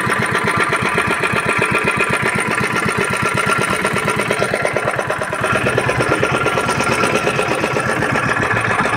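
A fishing boat's engine running at sea, a loud, close, steady rapid chugging throb that holds an even rhythm throughout with no voices.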